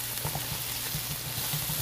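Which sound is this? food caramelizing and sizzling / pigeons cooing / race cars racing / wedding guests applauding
food caramelizing and sizzling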